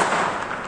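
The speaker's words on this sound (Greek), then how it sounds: "σας παρουσιάζουμε άλλη μια μεγάλη έκρηξη που άμα βλέπουμε καλά είναι 3 δυναμητάκια" Small dynamite firecrackers set off at Easter, a big burst of three charges blasting together into a loud, dense crackling roar that fills the whole moment without pause.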